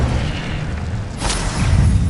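A fire spell cast in Hogwarts Legacy gives a loud, deep whooshing burst that swells into a rumbling roar, heavy and close, with no talk over it.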